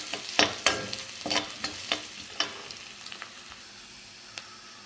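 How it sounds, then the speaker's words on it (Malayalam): Ginger and garlic fry in hot oil for a river crab roast, a soft continuous sizzle broken by several sharp spoon clinks and scrapes against the pan, close by, fading toward the end with no voices. "എണ്ണ ചൂടായി വന്നാൽ നമ്മൾ ആദ്യം ഇട്ട് കൊടുക്കുന്നത് ഇഞ്ചിയാണ്, പിന്നെ വെളുത്തുള്ളി"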